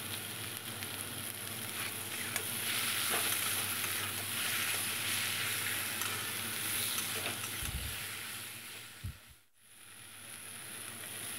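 Chopped tomato with coriander, cumin, chili and turmeric fries in a pan with a continuous close sizzle, joined by a few soft stirring knocks and clatters near the end.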